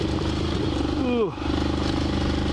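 Despatch tracker motorcycle ridden through a rut, with a loud steady engine note, a brief sweeping pitch drop and dip as it drops into the rut, then a return to a steady throb.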